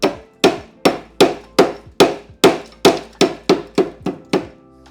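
Hammer blows pound a rust repair panel into place on a car body, about a dozen sharp metallic strikes in a steady, fast rhythm, loud and close with no talking.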